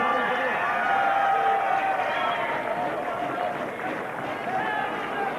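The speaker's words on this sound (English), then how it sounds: "Well, everybody is cheering there." A roadside crowd cheers and shouts continuously at a Tour de France time-trial stage in Belgium, a dense, steady wash of voices at moderate distance that persists throughout.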